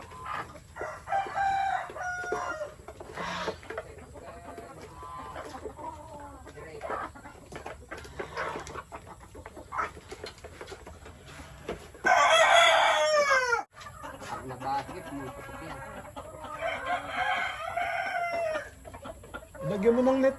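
Native chickens clucking and a rooster crowing loudly, with scattered farmyard bird calls around them.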